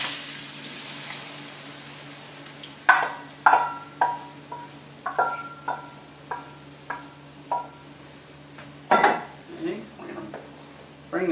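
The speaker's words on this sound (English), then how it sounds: "You really want to keep your broth mixture kind of moving around as it bubbles and thickens up" Broth mixture with pasta bubbling and being stirred in a pan for tortellini primavera, with a steady low simmer under a series of distinct clinks and scrapes of a utensil against the pan, moderately close.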